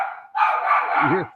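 A dog barks once or twice nearby in a quiet room, a short harsh yelping burst that fades out.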